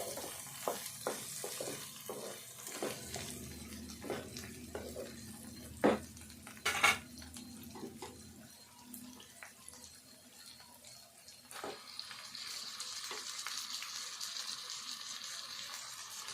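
Chicken added to onion and green chilli frying in a pan for bagara rice, with soft sizzling under clinks of a spoon and pan and a few louder scrapes, no talking.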